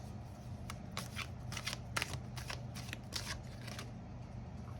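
Tarot cards shuffled by hand at close range, coming as a series of brisk, papery riffling bursts separated by brief pauses.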